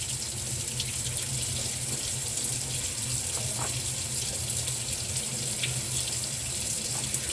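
Tap water runs steadily into a kitchen sink while spelt gluten dough is rinsed and shaken under the stream, a constant close splashing hiss with small irregular drips and knocks.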